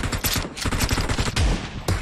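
Shotgun fire in PUBG Mobile: loud shots in quick succession fill a couple of seconds, punchy and close, with heavy low-end thumps.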